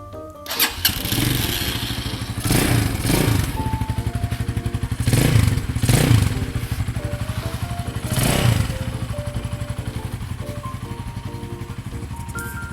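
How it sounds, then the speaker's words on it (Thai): A 2020 Stallion Makina 250 SP Plus motorcycle engine runs nearby with a steady thumping idle pulse and a few brief revs swelling and falling, loud and close with no speech. "เครื่องยนต์ดีมากนะครับ ไม่ดังไม่ควันนะฮะ"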